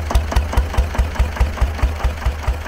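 A SABB GA 12 HP air-cooled single-cylinder diesel engine idles at its slowest with throttle off, thumping in a steady, evenly spaced beat of about five strokes per second, loud and close with no talking.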